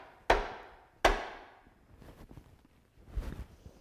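A punch and die clipping a coin blank snaps twice in sharp metallic strikes about a second apart, followed by softer shuffling and a duller clunk.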